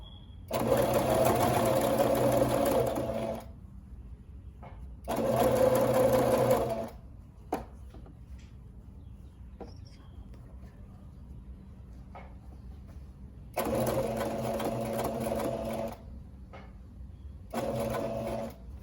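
A Brother PE800 embroidery machine stitches a diaper cover in several loud, rapid bursts of needle chatter, separated by quiet pauses with faint handling clicks and rustles.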